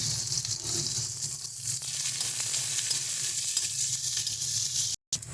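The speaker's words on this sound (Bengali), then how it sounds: "এবার এই মাছ ভাজার তেলে দিয়ে দিচ্ছি পেঁয়াজ ফোড়ন।" Onions are tempered in oil left from frying Ganges sand-goby fish, giving a loud continuous sizzle and crackle with faint stirring, no talk.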